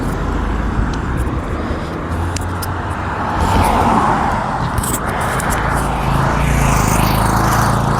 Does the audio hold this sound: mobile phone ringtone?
no